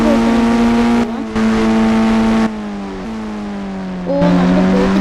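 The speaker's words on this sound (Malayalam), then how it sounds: "അപ്പോൾ നമുക്ക് ബോട്ടിൽ കയറാം. ഓടിക്കാം." A video game boat's engine drones loudly and continuously, its pitch shifting as it steers. There are brief dips where the throttle drops before it surges again.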